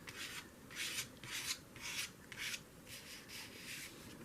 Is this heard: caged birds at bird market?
no